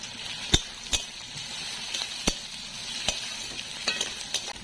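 Onion and garlic frying in oil in a pan, a soft continuous sizzle broken by sharp scrapes and clinks of a utensil stirring at irregular intervals, quiet and close.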